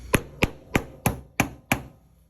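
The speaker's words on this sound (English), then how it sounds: "I'm going to take that out and just go ahead and stab it in with the hammer." A hammer drives an AK tritium front sight into its sight base with six sharp, close strikes, evenly spaced about a third of a second apart, each ringing briefly before the next.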